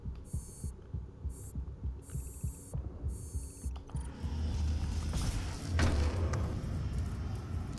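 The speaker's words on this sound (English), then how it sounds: "Oh, this is an elevator." A mechanical elevator hum in DOOM, a steady low drone with a rhythmic throbbing pulse beneath it, joined midway by a louder, broader rumbling whoosh as the lift moves, with no talking.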